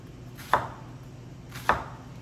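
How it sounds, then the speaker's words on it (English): A sharp knife slices through purple cabbage on a cutting board in two distinct crisp cuts about a second apart, close and clear with a quiet background. "we're gonna do it nice and thin with a sharp knife"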